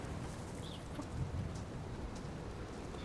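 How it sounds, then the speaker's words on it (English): Steady heavy rain pours through a thunderstorm in the DayZ survival game, with a dense continuous hiss, low rumbling underneath and a few faint high chirps. "That storm's getting worse."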